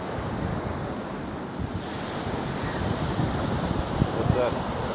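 Ocean waves rolling in at Mirissa Beach, Sri Lanka, a constant rushing surf with heavy wind buffeting the microphone, growing slightly louder toward the end.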